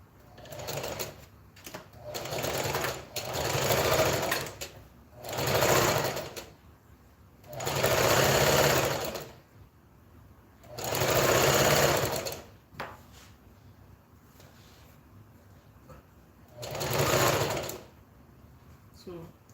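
A sewing machine stitching fabric in close, loud bursts of fast mechanical whirring, several runs of a second or two separated by pauses, with a person talking between runs.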